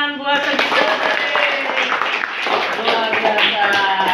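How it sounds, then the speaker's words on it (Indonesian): Students in a classroom clap for a classmate who answered correctly, quick overlapping hand claps close by, mixed with voices talking. "tepuk tangan buat Sugita"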